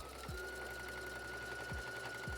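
A sewing machine runs zigzag stitches along an elastic skirt waistband, giving a steady, quiet mechanical whir with a few soft periodic thumps of the needle mechanism, close by and without voices.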